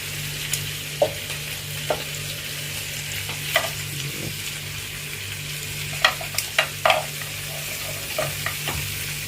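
Pieces of meat fry with onion and tomato in a pan, giving a continuous close sizzle broken by several scattered clinks and scrapes of a stirring utensil.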